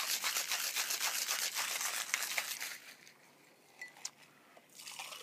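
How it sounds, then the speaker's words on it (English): Rapid rattling of ice inside a cocktail shaker as a cucumber gimlet with Bombay Sapphire gin is shaken, loud dense rhythmic rattle for nearly three seconds, then quieter clinks and a final burst. "And shake well."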